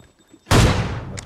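A single loud, sharp AWM sniper rifle shot in a video game bursts out after a quiet moment, its boom ringing and slowly decaying, followed by faint high clicks.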